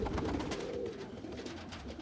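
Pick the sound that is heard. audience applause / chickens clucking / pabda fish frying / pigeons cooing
pigeons cooing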